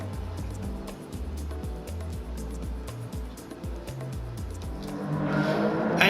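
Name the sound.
race cars starting a race in the video game Gran Turismo 7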